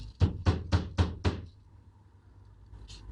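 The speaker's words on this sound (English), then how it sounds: "And you hear a banging on the door." Someone bangs on a door with five heavy, evenly spaced knocks in quick succession, then everything falls quiet.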